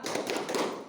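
A classroom of first-grade pupils claps a quick rhythmic cheer, several sharp hand claps in fast succession, close and fairly loud.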